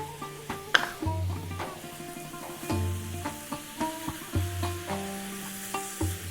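Lamb with rosemary sizzles in a pan, a steady frying hiss broken by regular stirring scrapes and light clinks of a utensil against the pan, close and clear.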